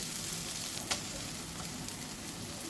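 Kaikka fish dopeyaza frying uncovered in a pan, a faint, even sizzle with a single small tap partway through, no voices.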